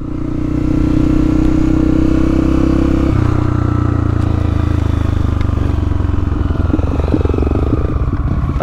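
A motorcycle ridden along a dirt trail near ruins and coastal cliffs, its engine droning loud and close at a steady pitch, shifting down partway through, with rattling clatter over rough ground.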